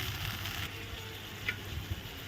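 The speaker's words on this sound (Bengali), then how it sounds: "মশলাগুলো ভালো করে নেড়ে নিচ্ছি এখন জিরার গুঁড়ো" Spices with cumin powder frying and being stirred in a pan, a soft steady sizzle with a couple of faint scraping clicks, close and alone.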